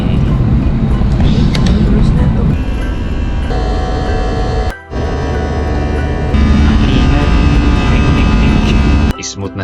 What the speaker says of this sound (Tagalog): Mga trip, magka-take off na kami.